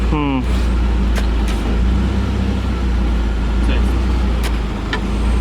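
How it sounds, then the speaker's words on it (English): A BMW E36 car engine idling steadily with a constant low hum close by, accompanied by faint clicks and some background speech. "So engine now on, just so we have power."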